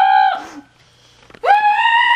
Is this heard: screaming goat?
yes